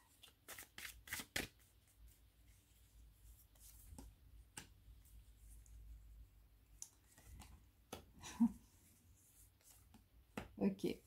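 Tarot cards are shuffled during a reading, with soft riffling bursts near the start and scattered card clicks and flicks later, heard alone and fairly faint.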